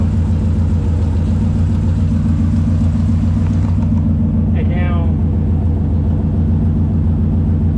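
A Ford Mustang with a Ford 9-inch rear axle idles nearby with a steady, loud low rumble throughout, while someone speaks briefly over it.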